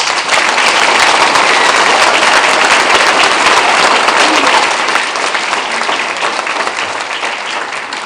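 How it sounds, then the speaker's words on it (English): Sustained audience applause for a veteran at a school Wreaths Across America ceremony, a loud, dense crowd clapping that holds steady for several seconds and fades slightly toward the end. "give a round of applause"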